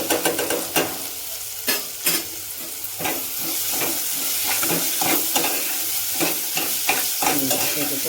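Onions sautéing with ginger garlic paste in a pan for a potato tomato curry, a bright continuous sizzle broken by sharp scraping stirs against the pan, close up with no talking.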